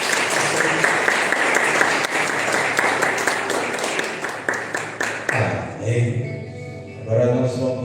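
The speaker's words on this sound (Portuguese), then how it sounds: "Vamos aplaudir o Senhor." A church congregation claps together in steady, dense applause that fills the room, then fades as a tonal voice or music takes over near the end.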